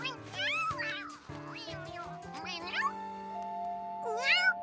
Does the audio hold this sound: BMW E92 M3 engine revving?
no